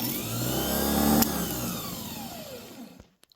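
A 1959 Ford F-100 pickup's starter motor whirs loudly at speed on a bench test, then winds down and stops, followed by a couple of faint clicks.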